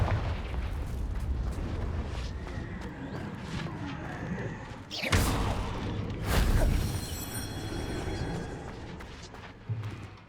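A Confringo blasting spell exploding in the video game Hogwarts Legacy, two sharp, loud bursts a second or so apart over continuous game ambience and rumble.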